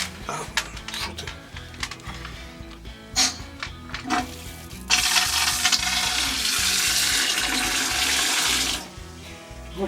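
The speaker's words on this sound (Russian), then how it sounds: "Ну все, идет вода." Water rushes through household plumbing after a ball valve replacement, beginning with clanks and knocks, then a loud steady hissing flow close by that runs for several seconds before cutting off.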